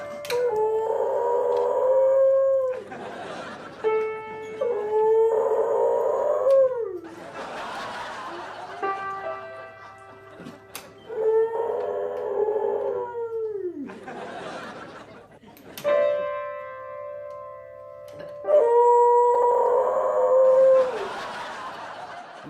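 A dog howls in long rising and falling wails along with piano chords, the howls returning in bursts between phrases, close and loud, with brief laughter-like noises in the gaps.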